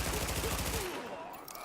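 Rapid gunfire from a primary weapon in The Division video game, a dense burst of repeated shots for under a second, then cut off into a quieter tail of game ambience.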